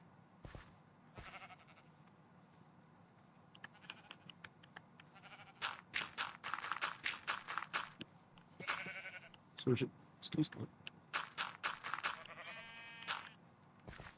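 Sheep in Minecraft, some dyed, bleat in short repeated bursts that grow busier toward the end, with someone speaking briefly over the bleats.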